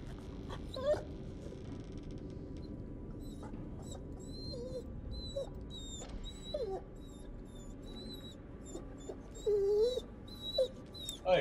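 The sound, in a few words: dog whimpering in the video game The Devil in Me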